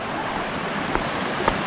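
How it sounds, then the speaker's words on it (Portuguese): Rushing water at a remote, little-explored waterfall and rapids in Roraima, a steady broadband roar with no distinct events beyond a couple of faint knocks. "Corredeira, cachoeira,"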